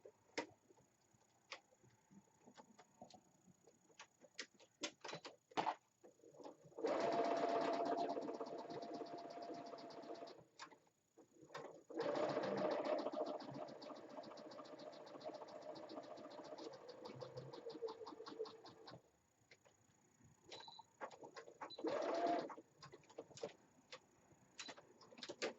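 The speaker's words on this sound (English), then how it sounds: "So I'm going to go ahead and sew these 2 pieces, and then I will be back." Home sewing machine stitching two fabric pieces for a face mask, running in a few separate bursts of steady mechanical whirring broken by pauses and small clicks, fairly close and alone with no talking.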